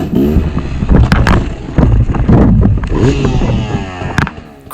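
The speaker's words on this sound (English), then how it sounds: "I'm practicing my slow wheelies again." A 2-stroke enduro dirt bike engine on a small side road, loud and close, revs and bogs in uneven surges during a slow wheelie, with sharp knocks and scrapes as it ends in a crash.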